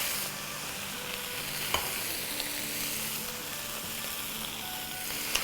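Vegetables sizzle and get stirred in a pan, seasoned with white pepper, for a Chinese chicken chili with noodles dish: a steady frying hiss broken by a few sharp scrapes and clicks of the spatula.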